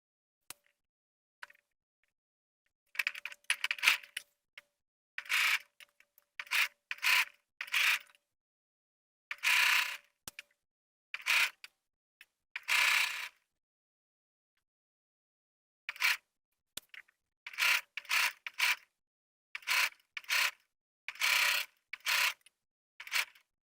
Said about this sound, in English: I'm going to use my machine to baste it